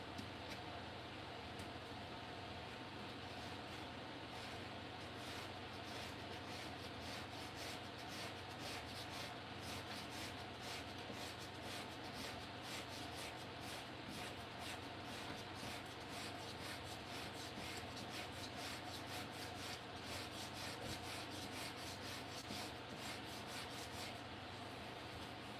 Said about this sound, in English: We'll go back down and grit again to take a little bit more material off.